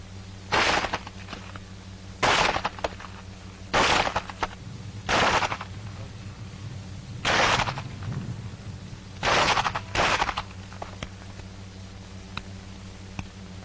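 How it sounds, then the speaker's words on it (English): Pistol shots fired in close-combat battle firing, about seven sharp, loud reports spaced irregularly over several seconds, some in quick pairs, against a steady low hum. "That is the way you use your pistol in battle firing."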